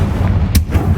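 A Confringo fire spell blasts in the Hogwarts Legacy video game, a single sharp burst over a steady low rumble of game sound, loud and close, with no talking.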